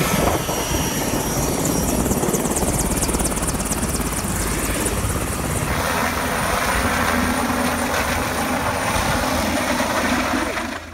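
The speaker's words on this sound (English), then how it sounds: "We drew the straws that got us on the first helicopter ride" A helicopter flies toward Carstensz Pyramid in Indonesia, its loud, steady rotor thump and engine whine filling the cabin without letup.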